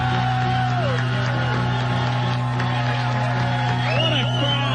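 A live theater crowd at a radio show spectacular cheers and yells, a continuous murmur of voices and whoops over a steady electrical hum, with occasional shouts rising near the end.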